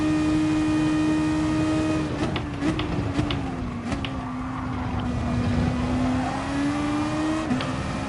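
Toyota Supra race car engine in a racing video game drones steadily at high revs, with a brief shift and dip around the midpoint before climbing again, loud and continuous throughout.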